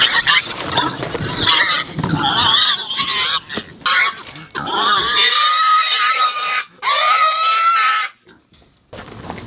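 A farm hog squeals loudly as it is picked up, shrill piercing cries in close repeated bursts broken by short gaps, with brief grunts and low handling noise before the calls trail off near the end.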